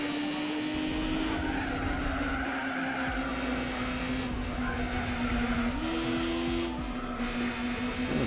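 Tires squeal in a sustained, loud skid under a droning engine as a car slides through a lap battle in Gran Turismo 4, with the pitch shifting briefly near the end.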